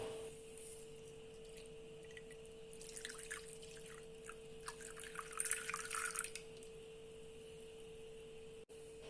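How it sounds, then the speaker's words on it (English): Boiling water pours from above into a wide bowl of granulated instant coffee, making a soft, close trickling splash that swells for a few seconds in a quiet kitchen, then stops. "Thereafter, pour in boiling water."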